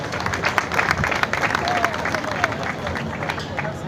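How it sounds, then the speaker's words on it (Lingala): Crowd clapping and cheering at a church-led funeral ceremony, dense sustained applause with scattered voices throughout. "Est-ce qu'on peut acclamer pour la parole du Seigneur?"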